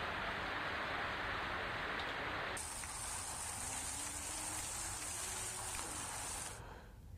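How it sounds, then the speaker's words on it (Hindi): Heavy rain with hail pours down during a sudden storm, a dense steady roar of water hitting surfaces that carries on without a break, with a faint tone rising beneath it partway through. "देखते ही देखते जोरदार बारिश होने लगी इस दौरान ओले भी गिरे"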